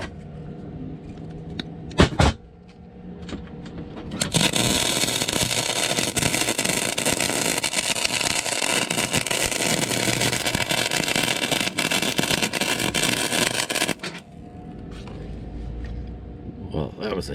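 Harsh, continuous crackling buzz of a welder fusing 2-inch bar stock for a homemade truck camper, lasting about ten seconds after a few sharp clanks, then stopping abruptly.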